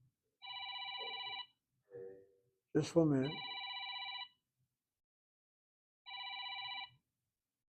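A telephone rings in a classroom with repeated electronic bell trills in separated bursts, fairly clear and steady, while a person speaks briefly between the rings.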